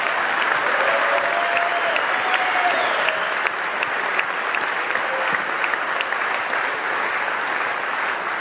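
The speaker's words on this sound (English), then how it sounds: "Give these round of applause." An audience applauds steadily for award judges at the inaugural Silicon Prairie Awards, a dense, even wash of clapping that holds for the whole stretch, with a few faint voices mixed in.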